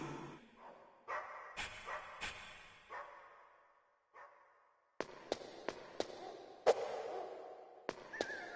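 In Metal Gear Solid, dogs bark in sharp separate bursts, a few spaced yelps early and then a quicker run of barks after a short pause, fairly close and clear.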